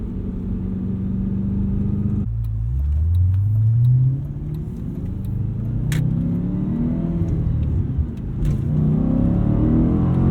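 A tuned 2007 Audi RS4 with a Milltek catback exhaust and ECU flash accelerates hard, its engine note climbing through a gear change and rising again, loud and close from inside the car with no talk.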